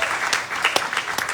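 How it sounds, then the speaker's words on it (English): Crowd clapping at a New York City town hall, a steady patter of many hands with a few sharper individual claps standing out. "Let's give them a round of applause."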